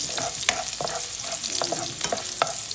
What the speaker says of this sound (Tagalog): lagay na po natin yung ating bawang. Tapos halo-haloin lang natin.